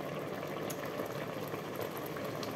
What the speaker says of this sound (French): je vais laisser bien réduire le jus et ça finira de cuire les sucrines